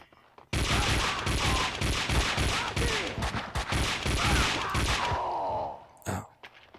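Sustained rapid gunfire in Max Payne 2, a loud fusillade of overlapping shots and booms for about five seconds before cutting off, followed by a brief faint thump and near silence.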